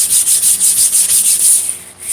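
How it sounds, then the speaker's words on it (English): Hand sanding lengthwise along a 30 lb steel sledgehammer with 240 grit sandpaper makes a steady, close, loud rasping that repeats in even back-and-forth strokes, about eight per two seconds, with no talk. "I'm taking some 240 grit hand sandpaper and I'm going lengthwise with the hammer"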